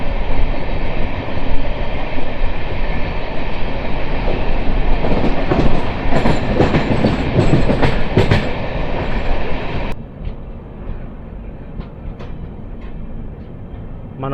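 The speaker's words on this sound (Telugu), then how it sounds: "మనం నల్లపాడు స్టేషన్ ముందైతే ట్రాక్స్ చేంజ్ అవుతున్నాము టువర్డ్స్ సికింద్రాబాద్ వెళ్ళడానికి." An LHB passenger train runs and changes tracks near Nallapadu station, a loud steady rumble of wheels and coaches with clattering over switch points, dropping abruptly to a quieter roll near the end.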